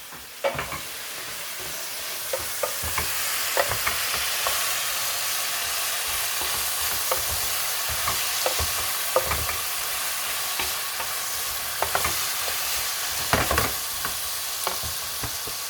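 Vegetables fry in a pan with a steady, close sizzle while a utensil stirs and scrapes them in irregular bursts, all through the stretch with no talk.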